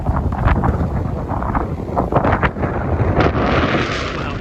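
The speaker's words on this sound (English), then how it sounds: "Wow, it's so crazy windy here." Strong gusts sweep through a riverside park on the Upper West Side of New York, battering the microphone with loud roaring buffets that rise and fall over several seconds, with no one speaking.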